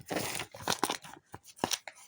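A paper surprise packet is torn open up close, giving several quick crinkling rips and crunches in irregular bursts with short gaps between them.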